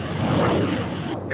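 Messerschmitt ME-262 turbojet fighter roaring past, a loud sustained broadband jet rush across the whole moment with no talk over it.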